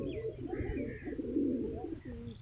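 Village pigeons cooing nearby in soft, throaty rolling calls, a few overlapping coos with light ambient noise.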